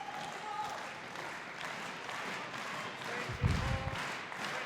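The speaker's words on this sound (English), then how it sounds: "And the crowd supporting the German team." Crowd applause and cheering at a 2013 German Open badminton men's doubles quarterfinal, a fairly faint, steady hall-wide noise with one louder burst near the end.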